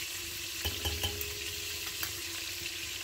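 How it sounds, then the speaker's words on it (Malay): Soft sizzling of garlic in a hot frying pan with a few quick scraping stirs, quiet and steady, no voices. "satu sudu setengah bawang putih di dalam dan digaul-gaulkan lagi"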